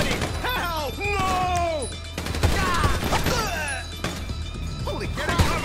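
Gunfire erupts during a GTA Online heist, bursts of shots and impacts crackling through the scene while voices shout in panic over the chaos, with whistling, swooping game effects running alongside.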